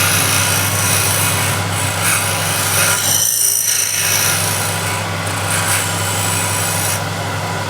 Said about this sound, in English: So first the task is just to get the rough shape, so this will just be a really quick scrape.